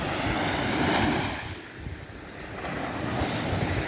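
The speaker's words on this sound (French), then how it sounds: "Vu déjà les vagues, j'espère que vous n'avez pas le mal de mer." Sea waves near Le Havre surge and wash in broad swells, with heavy wind buffeting the microphone and the rush rising and falling over a few seconds.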